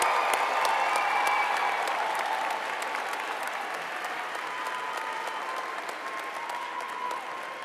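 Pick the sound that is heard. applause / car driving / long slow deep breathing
applause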